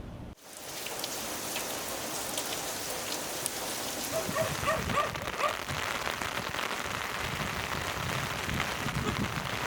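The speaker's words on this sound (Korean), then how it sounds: "비가 내리는 그 소리를 바로 들을 수 있어서 이 텐트에 떨어지는" Rain falls onto a tent during a camping stay, a close, continuous patter of drops on the fabric that thickens slightly toward the end, alone with no voices.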